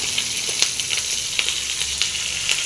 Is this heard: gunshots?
no